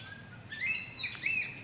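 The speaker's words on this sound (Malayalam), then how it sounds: "മൊത്തത്തിൽ കിളികളുടെ ശബ്ദങ്ങൾ എന്താ രസം" Birds sing around a waterlogged paddy field, a couple of short bright chirping phrases rising over a quiet low background hum, fairly close and clear.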